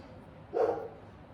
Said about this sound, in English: that's just my dog in the background